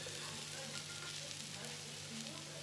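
Spanish omelette frying and setting in a pan, a steady close sizzle with a constant hiss and low hum, no voices.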